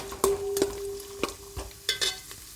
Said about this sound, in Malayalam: അണ്ടിപ്പരിപ്പും ഉണക്കമുന്തിരി ഇട്ട് കൊടുക്കാം. നന്നായിട്ടൊന്ന് ബ്രൗൺ കളറാക്കി എടുക്കണം.